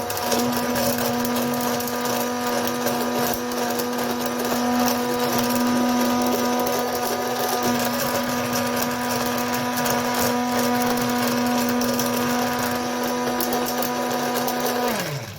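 A blender runs steadily at full speed mixing a sauce of grenade and pomelo for a sébaste fish dish in a tall container, giving a loud, even motor whine with no pause for about fifteen seconds before it cuts off at the end.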